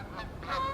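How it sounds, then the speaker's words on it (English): Geese honk overhead in a brief burst, a couple of calls rising over faint outdoor background noise. "I just came outside and ran into some geese flying overhead."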